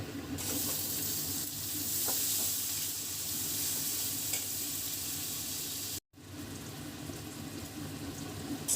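Tomatoes added to frying onion and green chili, a steady close sizzle with stirring scrapes throughout, broken by one brief gap before the frying continues.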